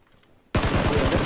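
Sudden loud automatic gunfire in PUBG Battlegrounds cuts in after a quiet moment, a rapid run of close shots in steady rhythm.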